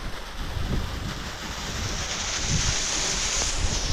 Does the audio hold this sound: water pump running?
yes